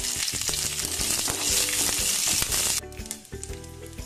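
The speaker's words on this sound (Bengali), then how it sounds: "এবার আমি এর মধ্যে কাজু কিশমিশগুলো প্রথমে ভেজে নেব" Cashews and raisins fry in hot ghee in a frying pan for carrot halwa, with a loud bright sizzle and repeated spatula clinks, and the hiss drops off sharply partway through.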